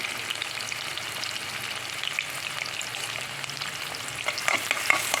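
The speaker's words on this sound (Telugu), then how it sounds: "మనం సన్నగా తరిగి పెట్టుకున్న ఉల్లిపాయలు వేయాలి" Finely chopped onions stir-frying in hot oil, a continuous crackling sizzle with spatula scrapes growing sharper and more frequent toward the end.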